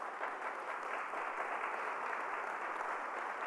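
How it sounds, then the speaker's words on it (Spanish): A church congregation claps in a loud, dense wash of applause after a sermon on 2 Timothy, many hands blending into a steady, even roar that holds without a break from start to finish. "Denle un fuerte aplauso."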